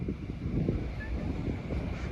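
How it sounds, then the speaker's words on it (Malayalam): Strong wind buffets the microphone at Nadukanippara viewpoint on the Upputhara–Vagamon road, a loud, constant low rumbling roar with gusty fluctuations and no talking. "കാറ്റ് ഭയങ്കര ശക്തമായിട്ടുണ്ട്"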